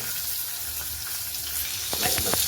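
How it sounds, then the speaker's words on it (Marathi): A metal pot pressing and rubbing hot peanut chutney on a griddle, with a steady sizzle and frying hiss underneath and a few short scraping rubs near the end, close and moderately loud. "आता आपण याला रगडून घेणार आहे तांब्याने गरमागरमच."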